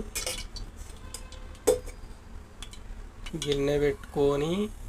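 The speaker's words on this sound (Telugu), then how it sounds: "గిన్నె పెట్టుకొని" Metal cooking pot and utensils knock and clink while setting up to make fish curry, a sharp close clang among scattered light taps, with a voice speaking briefly afterward.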